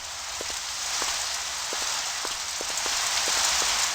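Steady rain patters across the stone buildings of a level in the shooter Mortyr, a continuous hiss with scattered drip-like taps, evenly loud throughout with no voices.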